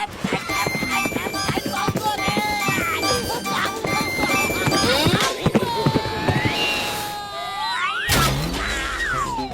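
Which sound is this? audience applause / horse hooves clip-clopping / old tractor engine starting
horse hooves clip-clopping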